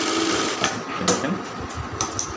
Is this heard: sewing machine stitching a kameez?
yes